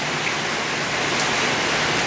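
Heavy early-morning rain falling outside a home, a dense, steady hiss of downpour with no breaks and no voices.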